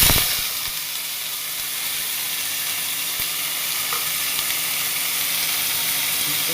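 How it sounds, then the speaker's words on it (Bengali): Potatoes and papaya slid into hot oil in a wok over lowered heat, giving a sharp burst as they land, then a steady close sizzling hiss that carries on alone, with no talking. "কড়াইতে তেল দিয়ে দিয়েছি, তেলটা গরম হয়ে গেছে, আঁচটাকে কমিয়ে দেবো, দিয়ে এবার আলু পেঁপেগুলো দিয়ে দেবো"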